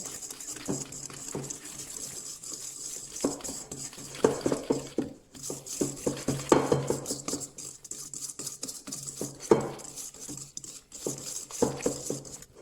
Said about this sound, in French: Ensuite, vous y rajoutez la fécule de maïs. Mélangez le tout également.